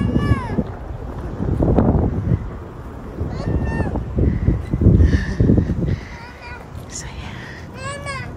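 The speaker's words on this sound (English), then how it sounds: "I don't even know if y'all can hear me because the wind is so loud." Strong wind gusts across an outdoor park with swings, rumbling steadily on the microphone throughout while a woman and young children talk over it.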